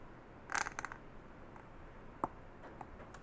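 X-Acto knife cutting away part of a 3D-printed Golden Snitch model, faint close-up clicks and scraping snaps in a short burst, then a few isolated ticks in a quiet room.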